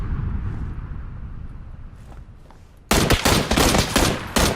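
PUBG gunfire: faint distant shots over low rumble, then a sudden loud string of close rapid bursts that fills the rest of the moment.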